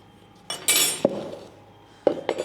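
Metallic car paint for a BMW E36 is stirred in a container, producing a few scraping swirls and sharp clinks of the stirrer against the sides, with quiet gaps between bursts.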